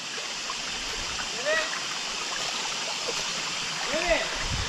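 A mountain stream on the Kumara Parvatha trek rushes in a steady, close wash of flowing water, with someone speaking briefly over it.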